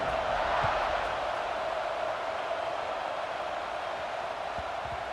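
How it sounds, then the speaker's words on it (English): A large crowd at a college football stadium rumbles after a score, a broad continuous roar heard from a distance, steady and even with no distinct voices standing out. "this crowd is buzzing after that last score"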